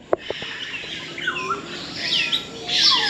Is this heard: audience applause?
no